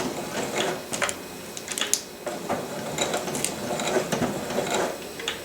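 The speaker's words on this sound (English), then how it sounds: "Then make sure you do your back stitching so it doesn't come undone again." A sewing machine back stitching fabric for a thermal window cover for an ice castle, a steady mechanical whir with quick clicking stitches, close up and alone.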